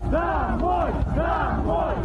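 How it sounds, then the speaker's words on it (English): A crowd of Ukrainian civilians in Berdyansk confronts Russian troops and a convoy of vehicles, many voices shouting together in a loud, rhythmic chant. "This crowd confronting Russian troops in Berdyansk and south of Kiev, stopping a convoy of Russian vehicles"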